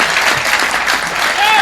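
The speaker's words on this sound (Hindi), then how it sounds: "तालियां उठाना" Audience applause at a Hindi comic poetry gathering (hasya kavi sammelan), dense steady clapping lasting under two seconds with a brief tonal sound near the end.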